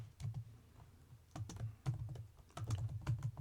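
Close keystrokes clatter on a computer keyboard in irregular bursts of quick taps with short pauses between them, and no voice is heard.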